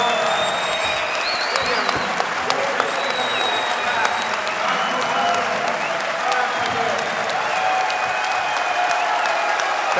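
Sustained, dense applause from a seated audience at an economics panel discussion, a steady wash of clapping that holds evenly for the whole stretch with scattered louder claps and faint crowd murmur.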